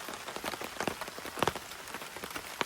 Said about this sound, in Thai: ฝนก็ตกลงมาลินลิน ให้ในแบบนี้ หวังว่าคงจะไม่ตกหนักทัดเท่าใดนะครับ